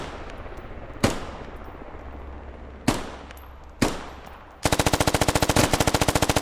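Three sharp gunshots spaced apart in the game Squad, then a rapid burst of automatic fire rattling steadily to the end, with a synthetic game-like quality.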